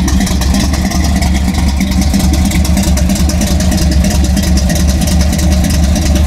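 SC/Rambler car engine idling warm at about 1,000 rpm, a loud, steady, even rumble with a fast regular pulse, recorded up close and with no pauses.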